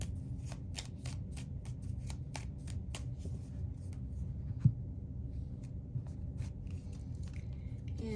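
Tarot cards from a Whispering Woods deck being drawn and handled, a quick series of crisp card flicks and slides close by early on, then sparser soft clicks over a low steady hum.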